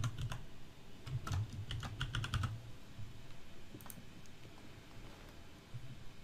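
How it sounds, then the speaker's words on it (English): A name is typed on a computer keyboard: a quick cluster of clicky keystrokes comes first, then a few scattered taps, close and fairly quiet against light room noise. "go ahead and type in your name"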